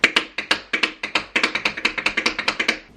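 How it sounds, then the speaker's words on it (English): Tap shoes strike a floor in a quick run of repeated flaps, each a sharp, close click. The clicks come in a fast, even rhythm, alone and without talking. "when you do multiple flaps together, it sounds like this"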